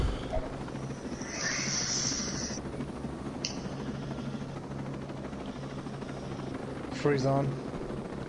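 Helicopter engine noise from a video game, a steady rotor drone sustained under players' talk with brief sharper game sounds.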